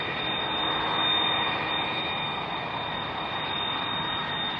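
Jet aircraft engines roar at Heathrow Airport near runway 27R, a loud, steady broadband rumble and whine that swells slightly and then holds, with no voices over it.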